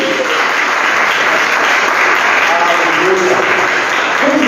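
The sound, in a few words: congregation applauding in church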